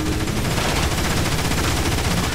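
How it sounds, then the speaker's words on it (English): Optimus Prime's gun fires in rapid automatic bursts in the Transformers: War for Cybertron video game, a dense, loud, continuous stream of shots filling the whole stretch. "You'll notice Optimus has his very characteristic gun."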